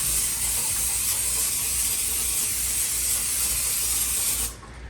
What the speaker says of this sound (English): Let's take some spray butter here.